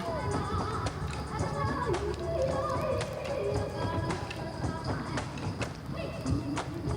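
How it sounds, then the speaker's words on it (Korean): Bamboo poles clap together in brisk rhythmic clacks during a Taiwanese indigenous Atayal (Wulai) bamboo dance, steady sharp taps over lively crowd and music noise. "대나무가 착착 맞는 소리가 경쾌하고요"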